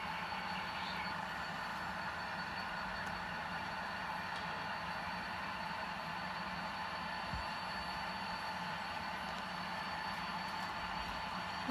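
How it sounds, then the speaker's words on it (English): A model CSX freight train pulling hopper cars along a layout toward the yard, a faint continuous rumble and rolling clatter with light clanks, steady throughout and heard alone. "Can hear the clanking of all these beautiful hoppers coming down, making its way to the yard."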